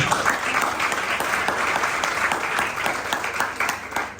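Applause from an audience at a university student association day event, a dense, steady wash of many hands clapping at even loudness for about four seconds with no voices on top.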